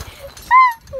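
A dog gives short, high whimpers and a sharp yip, close and loud, in a brief burst while being brought in with another dog.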